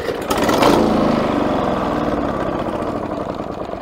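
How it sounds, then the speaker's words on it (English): A Victa Power Torque VE40 lawn mower engine that has trouble starting catches and runs with a steady, rough mechanical drone, loud and close, after a brief louder surge at the start. "let's try to start the engine"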